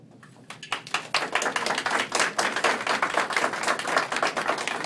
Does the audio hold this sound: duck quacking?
no